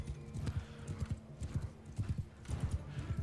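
Cavalry horses gallop through trees in a Mount & Blade 2 Bannerlord battle, with rapid, loud clip-clop hoofbeats in repeated bursts and occasional whinnies, no talk over them.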